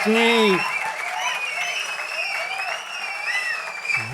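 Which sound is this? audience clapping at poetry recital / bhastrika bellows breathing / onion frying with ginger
audience clapping at poetry recital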